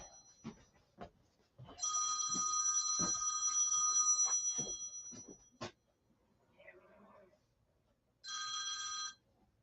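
A telephone rings loudly and close by in two electronic bursts, one lasting about three seconds and a shorter one near the end, with faint clicks and murmurs in the quiet gap between.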